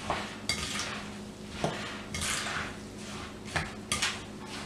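A rice and sugar mixture being stirred in a pan, with scraping and clinking of a utensil against the metal in irregular bursts and a faint sizzle underneath.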